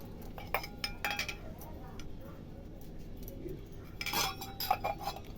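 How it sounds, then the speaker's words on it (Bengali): A spoon clinks and taps against a bowl as a batter of cornflour, salt, turmeric and ground spice paste is mixed, scattered metallic knocks with a busier burst near the end, and a voice speaks faintly. "এটাকে সামান্য জল দিয়ে আমি ভালো করে মিশিয়ে নেব"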